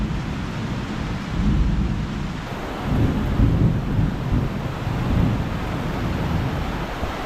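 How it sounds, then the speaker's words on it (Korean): A steady downpour hisses throughout as low rolls of thunder rumble and swell in the background in Weligama, Sri Lanka, with no voices. "천둥 번개 치고 폭우가 쏟아지네"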